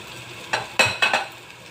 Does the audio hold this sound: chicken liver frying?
yes